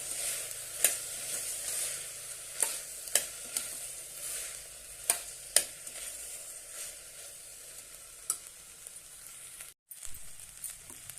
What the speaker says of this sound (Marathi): छानपैकी दोन मिनटं परतून घेऊया